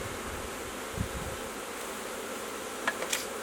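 Honeybees hum around a beehive in the evening as a steady, moderately faint buzz, with a couple of brief louder passes near the end.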